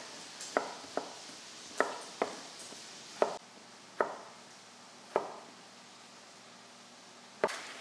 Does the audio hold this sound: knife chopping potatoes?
yes